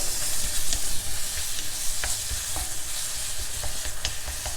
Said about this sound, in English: Mix everything again well together